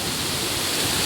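Dogwood Creek rushes beside a moving tram, a dense, loud, steady wash of flowing water with no pauses.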